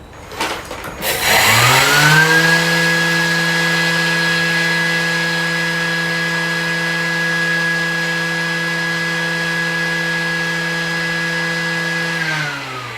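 A Thermomix TM7 mills biscuits at speed 10 in a clean, dry mixing bowl, with a loud motor that ramps up to a steady high-pitched whine and holds it for about ten seconds before winding down.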